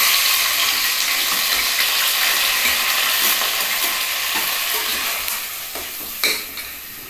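Rice poured into a hot pan of fat and fried for festive pulao, a loud bright continuous sizzle that eases slightly toward the end, with a few stirring scrapes and a clink.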